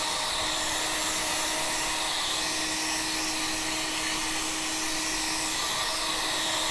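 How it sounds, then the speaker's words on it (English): A heat gun warming the bearing housing of a Harley-Davidson Twin Cam 88 cubic inch engine during a rebuild, blowing as a loud, constant close-up whoosh with a steady hum and no pauses or talk. "Just gentle heat with a heat gun and spread it around evenly."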